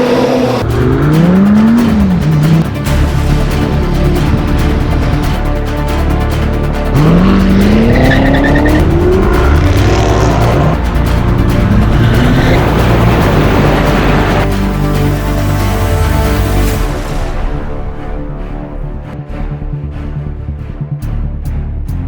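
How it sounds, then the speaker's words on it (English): Porsche 911 with a modified exhaust revving hard, its engine pitch climbing and falling through repeated runs under a loud, continuous roar, with tire noise mixed in, before the sound drops away near the end. "a modification to the exhaust that's going to make it sound awesome"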